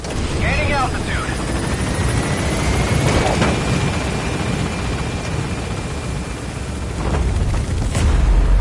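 A helicopter in Metal Gear Solid 5 lifts off from a landing zone, a steady broad rotor and engine roar that stays loud throughout and swells near the end, with brief radio-style voices over it.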